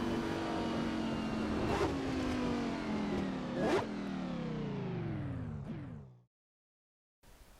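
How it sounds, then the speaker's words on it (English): A Fiat 500 Abarth in the Assetto Corsa racing game is over-revved hard, its engine note climbing in strained sweeps with sharp gear-change dips, then cutting off abruptly into silence before a brief return at the end. "Second thing you'll notice, over-revving it like mad."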